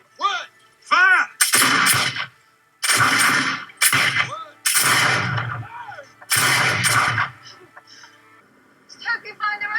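Gunfire volley from an Outlander battle scene: several loud, sharp bursts of shots come one after another a second or two apart, with voices speaking between them.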